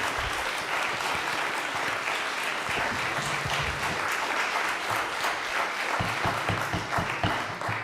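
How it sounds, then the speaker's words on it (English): Sustained applause from the audience at a city council meeting, a loud, dense clatter of many hands clapping without pause, with a few voices and cheers mixed in toward the end. "I understand the applause"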